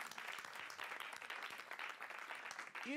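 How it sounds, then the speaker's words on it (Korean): Brief burst of audience applause at a church teaching session, quiet and steady for about three seconds, with a voice beginning to speak at the very end. "박수 쳐주세요."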